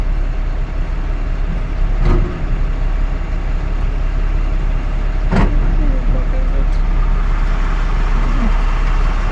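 A truck driving on a snowy winter workday, heard from inside the cab as a loud, steady engine and road rumble with a couple of brief clicks and knocks.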